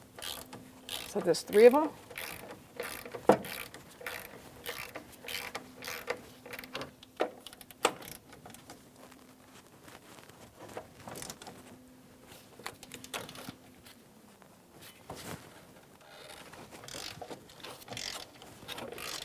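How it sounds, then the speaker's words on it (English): A 3/8-inch drive hand ratchet loosens 18 mm bolts on the front shock and spring assembly of a 2015-2020 Cadillac Escalade, giving quick repeated clicking bursts with pauses between them and brief talk at times. "So these are 18 millimeter sockets. I'm just going to use a 3/8 drive just to loosen them up."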